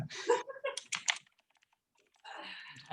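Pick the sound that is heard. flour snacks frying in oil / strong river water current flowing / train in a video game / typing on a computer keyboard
typing on a computer keyboard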